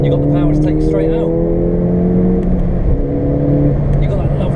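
From inside the cabin of a Ford Fiesta ST, the engine drones steadily as the car is driven, with its tones rising and falling a little beneath someone talking throughout.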